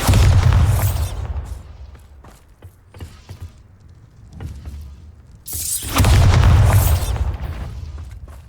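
Bombarda spell explosion in Hogwarts Legacy: a heavy booming blast that fades into clanking mechanical rattles, then a second loud burst with rumbling tail, close and powerful.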